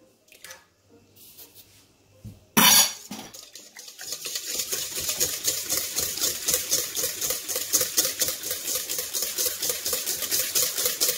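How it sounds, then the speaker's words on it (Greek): Eggs go into cookie dough in a bowl for apple cookies, starting with a sharp crack and splat, then steady rhythmic mixing and sloshing that runs nearby and fairly loud. "Προσθέτουμε τα αυγά."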